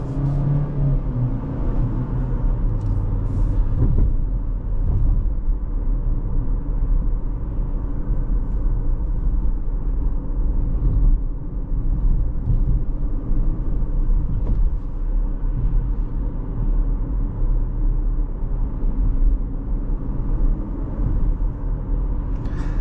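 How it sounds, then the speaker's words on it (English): A steady engine drone and low road rumble continue throughout, with a faint whirring rise of the turbocharged engine while a 2023 GMC Terrain AT4 SUV drives. "I don't remember being able to hear the turbo as loud as this"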